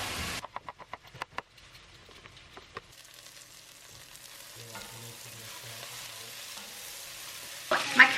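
Carrots dropped into a pan of softened onions for a chicken casserole, first a few sharp clattering knocks, then a quiet, gradually building sizzle, close by, ending with a louder scrape.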